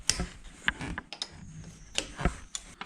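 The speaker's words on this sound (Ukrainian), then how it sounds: "і відкрутити одну гайку. Ключ на 13" Metal clicks and ratcheting taps as a 13 mm wrench loosens a single nut near the hoses during a car cable repair, a few close, irregular sharp ticks against a quiet background.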